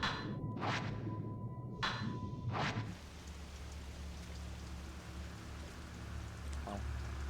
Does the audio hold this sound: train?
no